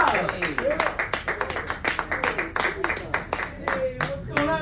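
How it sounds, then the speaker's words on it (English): A comedy show crowd claps and cheers in a burst of applause, with scattered claps and voices mixed in throughout. "Please give a big round of applause for Niko Pop."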